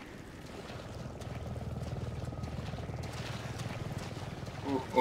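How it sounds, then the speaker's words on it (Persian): A helicopter in the video game Resident Evil 7 gives a steady low rotor thrum that runs through the whole stretch at moderate loudness, with a brief louder bump near the end. "اوه صدای هلیکوپترم میاد"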